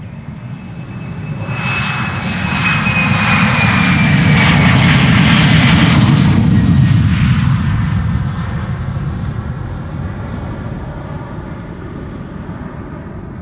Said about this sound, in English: Embraer 190 to Stavanger up next, KLM flight 1177.